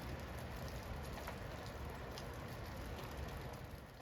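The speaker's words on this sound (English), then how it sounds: "Just another cold, wet, rainy day." Steady rain falls on the Pacific Crest Trail on a cold, wet day at about 38 degrees, a constant close hiss of drops with no voices.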